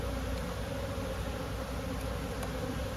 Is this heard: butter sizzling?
no